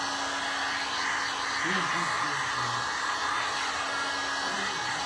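A hair dryer blows steadily on paint over a gingerbread tray, a constant close whooshing hum that runs throughout, with a voice speaking faintly in the background.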